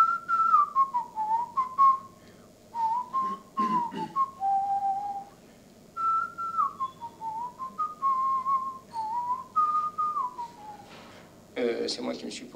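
A person whistles a wandering melody in clear, close phrases with short pauses between them, plus a brief scuffing noise near the end.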